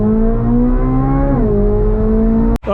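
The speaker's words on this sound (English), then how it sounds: "I'll rev it here" A Chevrolet Corvette C8 Z06 with the Z07 package revs its engine up close, a loud sustained howl that rises, dips slightly midway, then cuts off abruptly near the end.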